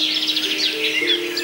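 Birdsong picked up through a parabolic microphone aimed closely at a singing bird: a continuous run of bright chirps and warbling phrases, fairly near and clear, with a steady low hum running beneath and no voices.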